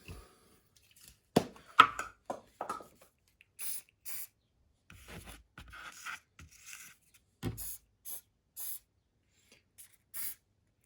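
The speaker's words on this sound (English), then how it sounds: "Now I'm going to give that another spray." Several short bursts of hairspray hiss from an aerosol can onto an OO gauge model railway fire scene, spaced irregularly, with faint rustling and handling noises in between.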